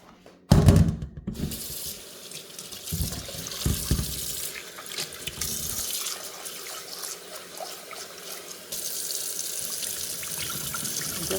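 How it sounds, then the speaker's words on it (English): Boiled beef water drains from a pot, pouring steadily into a sink for several seconds, splashing and gurgling, with a louder burst near the start and a fuller rush toward the end. "just always drain the first water that I get from the beef."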